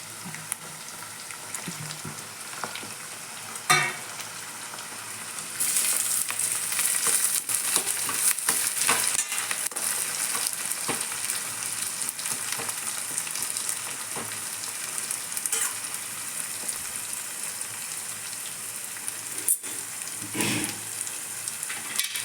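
Beetroot, tomato and other vegetables frying in a pan at home: a quieter start, then a knock and a louder, steady sizzle that carries on to the end with occasional stirring scrapes, no talking heard.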